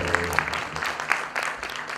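An audience applauds at a folk concert, a brief burst of clapping from a crowd, near and fairly loud, with a voice speaking over it.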